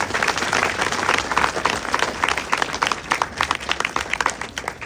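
An audience at a devotional talk breaks into sustained applause, many hands clapping together in a dense, steady roar that begins to thin and turn patchier toward the end.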